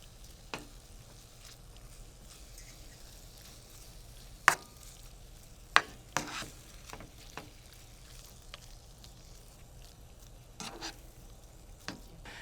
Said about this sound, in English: I'm going to keep stirring frequently until the beef is no longer pink and just about cooked through.